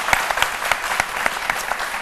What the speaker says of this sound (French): Loïc de Denis, que je vous demande d'applaudir.